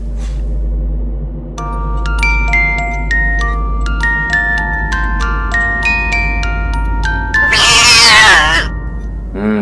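A black cat meows repeatedly, near and clear, in drawn-out tonal calls over a low steady hum, ending with a loud, rising, strained cry.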